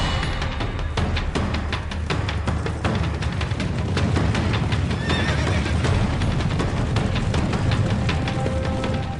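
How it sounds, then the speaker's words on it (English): Wild mustangs on open plains: repeated loud neighs and whinnies over a dense, continuous drumming of galloping hooves, a full herd running close by with no voices. "400 years later, over 1 million Mustangs run wild"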